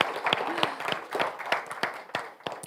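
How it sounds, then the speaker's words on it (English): Scattered applause from a conference audience for a speaker, a handful of separate claps landing unevenly over a soft room background, near and moderately loud. "I would like to give you a big applause again"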